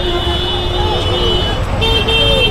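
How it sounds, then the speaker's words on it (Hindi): Busy road traffic near Gorakhpur railway station, with a loud continuous roar of engines, repeated horn toots and electronic tones, and a voice talking amid the din. "बस शोर शराबा ट्रैफिक बहुत है।"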